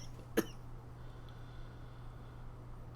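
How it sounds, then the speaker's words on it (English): A single short, deliberately dramatic cough bursts out once near the start, then gives way to a quiet room hum with no talking. "You made me do a dramatic cough."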